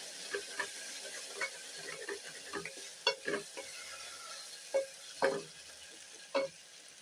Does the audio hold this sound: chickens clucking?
no